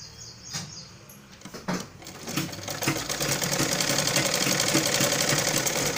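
A sewing machine stitches running stitches on a blouse lining, starting with a few hesitant clicks and then settling into a fast, even whirring rattle that grows louder and continues close by without talk.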